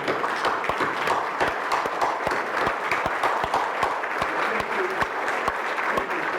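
At an Anzac Day gathering in Waipawa, a crowd claps for three elderly veterans, a continuous, lively burst of applause with several loud close-range claps punctuating the wash.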